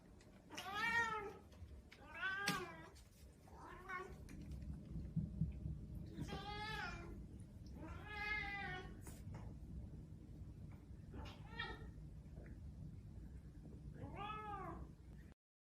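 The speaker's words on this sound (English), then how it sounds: "cat, loud cat, a vocal cat" A vocal cat meows loudly and repeatedly, about eight drawn-out calls spaced irregularly over a low room hum, close and clear with no talking.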